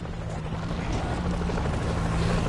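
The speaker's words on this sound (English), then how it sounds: "The helicopter's landing across the river!" Army helicopter landing in the video game World War Z, a steady low rotor drone with a faint hum, holding constant and fairly loud throughout with no talk.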